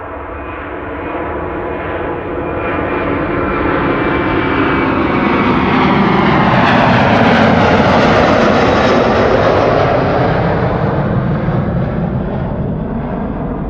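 A British Airways jet airliner on BA flight 431 takes off at Amsterdam Schiphol in sunny winter weather, its engines building to a loud, steady roar that swells near the middle and holds without a break, with no voices.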